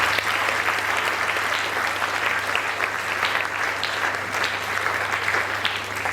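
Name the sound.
applause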